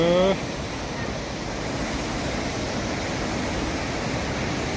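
The Pahad Khola mountain stream rushes in a steady, dense wash of flowing water, with a brief voice at the very start.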